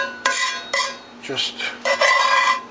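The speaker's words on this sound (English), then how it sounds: "Now for something that's really heavy and crusted, you can use the spatula." A spatula scrapes heavy crusted residue off a cast iron pan in short, harsh strokes, several separate scrapes with gaps between them, close and fairly loud, with a brief spoken word.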